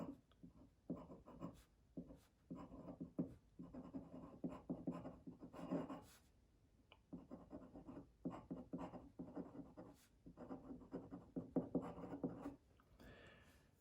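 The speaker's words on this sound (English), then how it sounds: "So I should probably write that out." Pen or marker scratching against a board or paper as a chemical name is written out, in quick rhythmic strokes grouped into words with brief gaps, close but quiet.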